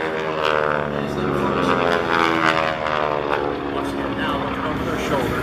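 A P-40 propeller warplane drones loudly overhead at the SUN 'n FUN 2018 airshow with a rich, steady engine tone, while people talk and call out beneath it.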